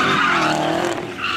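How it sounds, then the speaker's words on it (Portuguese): A loud, sustained tire squeal wavers in pitch as a Chevrolet Camaro drifts on wet pavement, continuous for a second or so with engine noise beneath. "Mano, é muito top ver drift na chuva."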